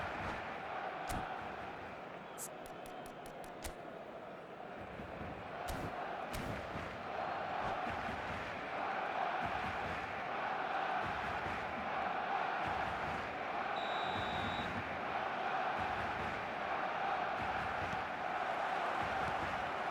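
Stadium crowd in the eFootball video game on match day, a broad continuous roar that swells gradually, with brief sharp clicks early on and faint commentary-like voices underneath.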